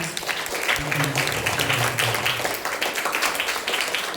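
Primary schoolchildren in a classroom clap together in a dense, steady burst lasting a few seconds, with young voices mixed into the noise.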